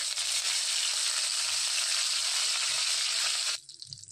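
Curry leaves crackle and hiss loudly in hot oil as Maharashtrian kadhi tempering starts, a dense steady sizzle that cuts off sharply near the end, leaving quieter spatters.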